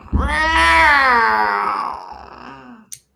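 A person drawn-out, wailing meow imitating a cat, loud and close, ending with a brief sharp breath.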